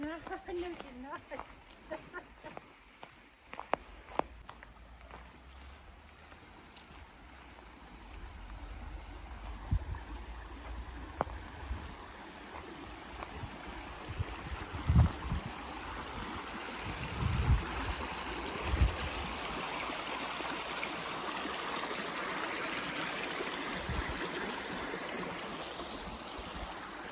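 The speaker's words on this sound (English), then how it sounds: "we hear a fresh babbling brook" A fresh babbling brook in Zakopane, Poland, running as a steady broadband rush of water over 27 seconds, with a few louder splashes and knocks partway through.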